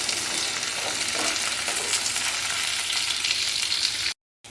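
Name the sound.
okra (ladies finger) frying in oil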